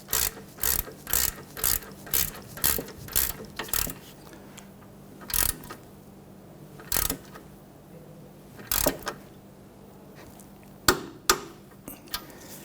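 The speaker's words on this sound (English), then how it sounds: "Torque down your outer tie rod nut to 97 foot-pounds." A ratchet wrench tightens the outer tie rod castle nut on a Jeep Patriot with quick bursts of clicking, first in a rapid run and then as slower single strokes with pauses between them, close up and quiet, with no one talking.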